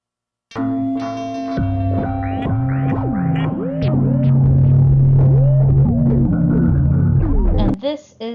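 Sonified data signal played as synthetic tones with a heavy echo effect: sustained and gliding electronic pitches overlap and swirl through reverberation, steady and fairly loud, with a short fluttering tail.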